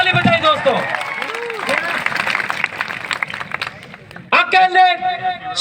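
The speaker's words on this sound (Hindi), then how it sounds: "उनके लिए ताली बजाइए दोस्तों।" At a World Tribal Day gathering, a crowd claps with a burst of scattered hand claps that swells and then fades, set among a man's loud amplified speech.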